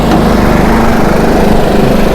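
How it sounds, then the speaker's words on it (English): Small inverter generators drone steadily under a welding load, a loud, continuous buzzing engine hum with no break for the whole stretch. "The generators did run up in speed"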